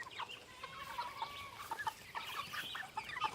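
Americana roosters and chickens cluck softly on a homestead, with a rapid scatter of short, fairly faint calls overlapping against quiet outdoor background.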